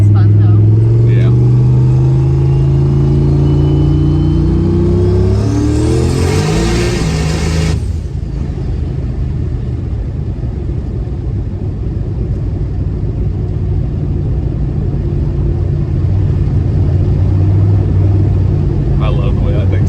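A turbocharged LS-swapped BMW M3 roars hard through its gears from inside the cabin, its engine note climbing and shifting before settling into a loud, steady drone, with people talking over it.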